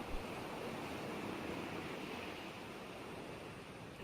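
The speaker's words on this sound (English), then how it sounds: "you hear the surf of the waves as they gently roll in and out" Gentle ocean surf rolling in and out on a warm summer day, a steady soft wash of broadband noise with a faint breeze, no voices.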